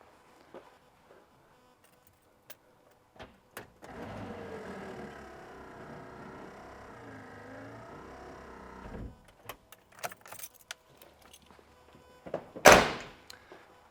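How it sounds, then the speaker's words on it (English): The power tailgate window of a 1988 GMC Jimmy 4WD hums upward for about five seconds as a steady motor whine, followed by scattered clicks and a sharp thunk near the end. "get our window back up"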